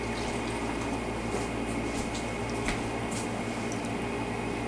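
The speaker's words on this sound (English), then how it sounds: "Pour some water to where the bottom is completely covered." Water pours into a baking dish for spaghetti squash until the bottom is covered. A continuous, fairly loud liquid rush runs without a break and has a brief splashy accent near the end.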